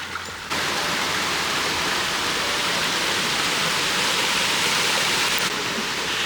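Continuous rushing water of a small waterfall, dense and steady, close by with no pauses.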